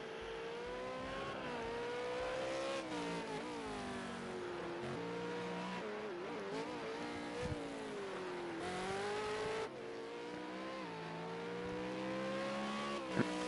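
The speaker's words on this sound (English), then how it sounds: "You can see he's really racing the car hard." A V8 Supercar racing hard at Watkins Glen in a sim racing game, its engine revving up and down through gear changes with continuous rising and falling pitch, loud and close, with brief tyre squeal and no talk.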